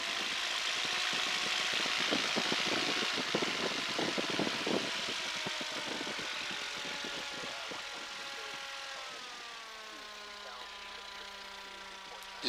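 A Piper Cherokee's propeller engine idling and taxiing across a runway, a steady droning rumble with rattling pulses that eases to a smoother whining idle near the end, heard from inside the cockpit.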